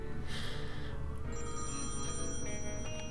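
A telephone rings in the point-and-click video game Thimbleweed Park, a bright electronic bell trilling steadily over a continuous background ambience, with no speech.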